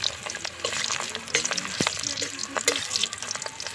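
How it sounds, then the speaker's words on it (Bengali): Papad frying in a pan at a winter picnic crackles and sizzles, with sharp clicks and clatters of stirring scattered through a busy, close-up sizzle. "পাপড় ভাজা চলছে বন্ধুরা।"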